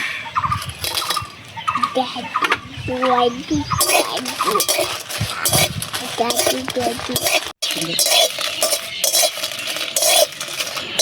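Dry red chillies frying in a pan for a village-style jujube pickle, with metal spoon scraping and clattering steadily against the pan over a light sizzle, while people talk nearby.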